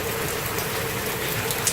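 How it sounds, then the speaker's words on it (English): Rain pours outdoors in South Florida, a steady dense hiss of drops that stays even and fairly loud from start to finish, with no voices. "it is raining. You can't see it, but I'm sure you can hear it. It is raining here in rainy South Florida"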